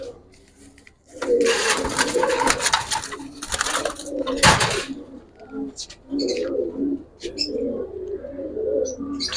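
Giribaj pigeon squabs of a silver bloodline coo in a loft, rhythmic throaty calls repeating close by, broken by a few sharp handling bumps and rustles, with a person speaking at times.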